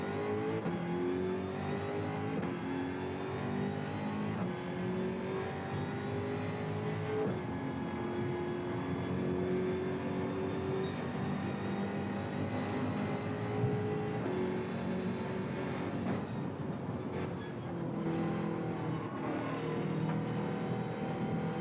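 Several racing car engines in a driving video game rev and shift continuously, with rising and falling pitch sweeps and overlapping engine tones at steady loudness throughout.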